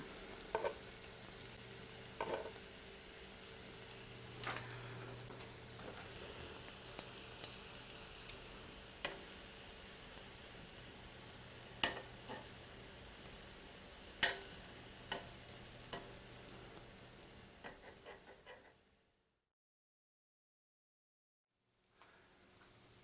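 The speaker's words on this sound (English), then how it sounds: "the spinach and the sweet potato balls have been frying on each side for a few minutes now" Sweet potato and spinach balls fry in a pan with a steady close sizzle, broken by occasional stirring clicks, before the sound cuts to near silence at the end.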